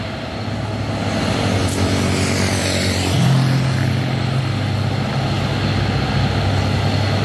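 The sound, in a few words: Fuso truck engine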